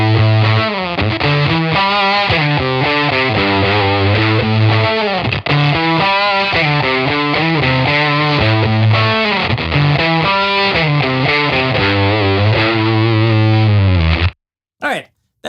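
A Fairfield Circuitry 20% More slew-limiting distortion pedal switched on, producing a loud, continuous, heavily saturated and fuzzy melodic line with steady sustained notes before cutting off abruptly near the end.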